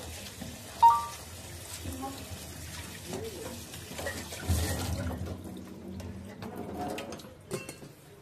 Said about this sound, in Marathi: उकडलेला भात आपण गार पाण्याने धुवून घेतला आहे।